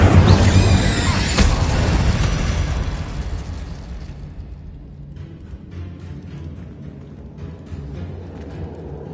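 The Incendio fire spell is cast in the Hogwarts Legacy video game as a loud fiery burst and blast that roars up and then fades into a lingering crackle and rumble.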